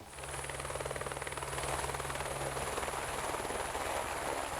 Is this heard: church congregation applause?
no